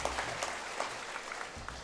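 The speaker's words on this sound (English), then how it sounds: "So give yourselves a round of applause." Steady applause from an audience at a school academic awards ceremony, a soft, even wash of many hands clapping at moderate distance with no voices over it.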